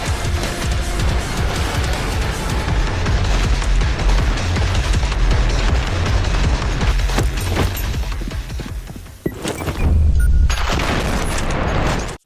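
Shotgun blasts in old-school boomer shooter games, a dense barrage of loud booming shots over heavy action noise, briefly dropping out before another burst of firing.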